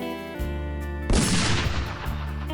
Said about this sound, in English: A gunshot echoed in the night, and Levy's form went limp